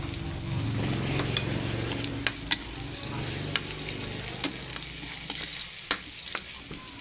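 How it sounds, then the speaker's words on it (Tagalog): Garlic and ginger are sautéed in oil left over from frying tilapia, giving a soft, steady sizzle throughout with sharp spoon clicks and scrapes against the pan at intervals. "Dito na ako naggisa sa pinagpritoan ko"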